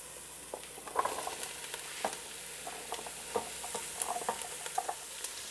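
Chopped zucchini tumbles into a hot pan with garlic, setting off a steady frying sizzle with soft stirring scrapes and light pattering taps throughout.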